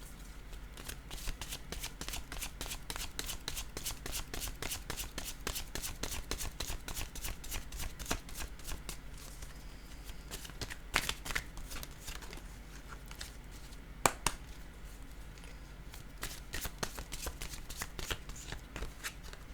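Tarot cards being shuffled by hand, a fast, steady run of crisp riffling clicks going on continuously at close range, fairly quiet, with no talking.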